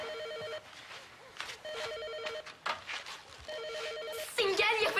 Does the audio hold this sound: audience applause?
no